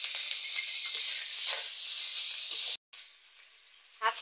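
Chopped green chillies crackle and sizzle in hot oil, a bright, steady frying hiss for nearly three seconds that cuts off abruptly, leaving faint background noise with a brief clatter at the end.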